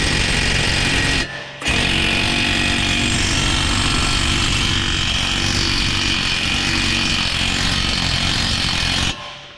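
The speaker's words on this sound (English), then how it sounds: "You can free it off sometimes by using the gun there." An impact gun works a seized bolt on a 2016 Nissan Qashqai's front lower arm, with a loud continuous whirring rattle, one brief pause early on, and a stop near the end.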